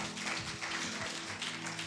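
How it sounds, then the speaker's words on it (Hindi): A church congregation at a Hindi worship service claps together in a sustained, even patter of many hands that holds at moderate loudness across the short stretch, with no clear voices. "ताली बजाओ सब लोग एक दूसरे के लिए"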